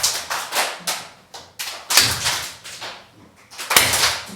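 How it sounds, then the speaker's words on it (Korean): A church congregation clapping together during a Sunday worship service, loud bursts of hand claps coming in rhythmic clusters with short pauses between them, no voices over them. "크게 박수를 한번 쳐보세요."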